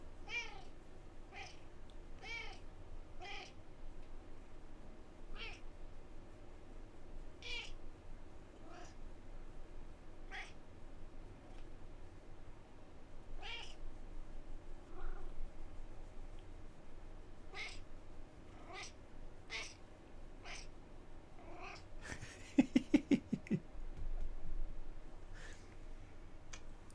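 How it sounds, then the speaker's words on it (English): Cat meowing in the video game Atomfall: many short, separate meows spread through the whole stretch, some fairly clear and others more distant, over a steady low background hum, with a brief clattery burst near the end. "So many kitty noises."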